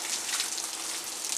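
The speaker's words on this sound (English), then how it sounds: "The rain is so hard on everything." Rain falls hard on a greenhouse, a dense, steady hiss of drops close by with no talking.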